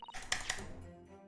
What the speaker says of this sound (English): hear your keyboard.